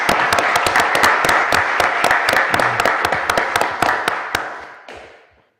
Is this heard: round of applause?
yes